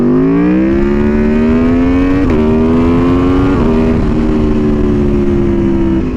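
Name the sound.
Aprilia Tuono V4 motorcycle engine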